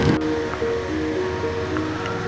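Strong storm wind at around 2000 metres altitude on Tenerife during a motorcycle trip, a constant broadband roar and rush with no breaks and no voices.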